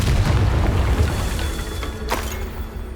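A Confringo blasting spell explodes in the Hogwarts Legacy video game, giving a loud, heavy boom at the start that rolls off into a rumbling tail, with a brief crackle near the end.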